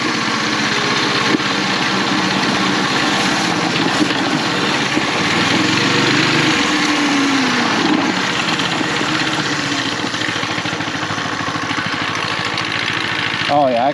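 A bike engine fitted with a 30 Series torque converter idles loud and close in a steady, buzzing drone with a brief dip in pitch partway through, and talk over it.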